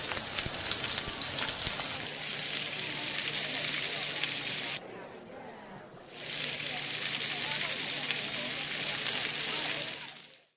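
Street food frying at a market stall in Darjeeling gives off a loud, steady sizzling hiss that dips briefly in the middle before surging back at full strength.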